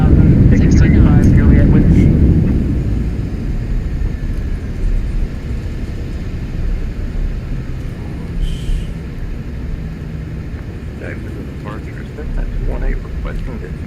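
An airliner's landing rollout in Microsoft Flight Simulator on a Haneda to Izumo flight, loud engine roar winding down to a steady rumble while a voice talks intermittently.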